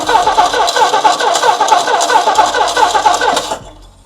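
A 1960 Dodge Dart engine cranks over on the starter during a compression test, a rapid rhythmic churning that runs loud and close for several seconds before cutting off, with no voices.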